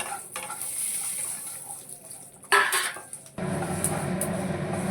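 Dry coconut frying in hot oil in a pan, a steady close sizzle with scraping stirs and a clatter of utensils, growing louder and denser toward the end.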